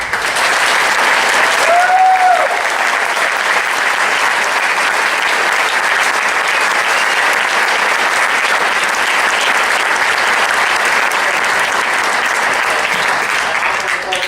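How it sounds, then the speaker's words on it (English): Loud, sustained applause from a large audience for a high school wind ensemble at a band award ceremony, dense and steady throughout, with a brief voice or cheer near the start. "Let's give them a big round of applause."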